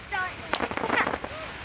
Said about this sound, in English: How do you like the fireworks, bud?